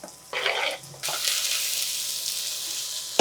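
Chopped onions and mushrooms fry in a saucepan, a hissing sizzle that swells as the pan is stirred, loud and close with brief gaps between bursts.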